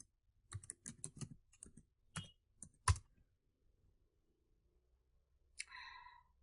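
Keys on a computer keyboard clatter in a quick burst of uneven strokes while the ipconfig registerdns command is typed, then stop, leaving a quiet pause and a short rustle at the end.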